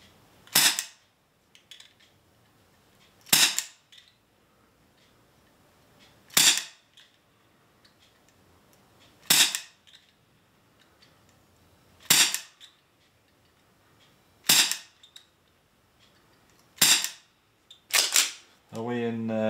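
Single shots from a non-blowback Sig Sauer airsoft pistol fired over a ballistic chronograph, seven sharp, close snaps spaced a few seconds apart, with quiet gaps between and a short voice at the very end.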